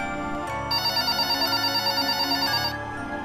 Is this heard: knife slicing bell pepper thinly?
no